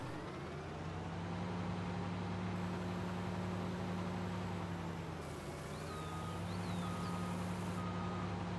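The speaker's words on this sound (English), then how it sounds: "Listening to that backup beeper though is going to get a pain in the rear end." A vehicle backup beeper in the Farming Simulator 19 game, repeating steady electronic beeps over a low droning engine hum, moderately quiet and continuous with no voices.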